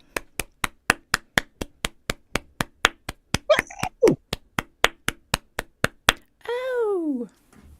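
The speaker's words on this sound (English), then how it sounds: "All right, let's clap it in." Two hosts clap together in a steady run of about two dozen sharp, evenly spaced close hand claps, with a brief voice breaking in midway and a rising sung or hummed tone at the end.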